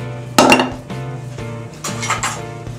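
A baking dish of pumpkin slid into the oven, a sharp metallic clatter of the dish against the rack followed by a softer scrape and clink, close and distinct.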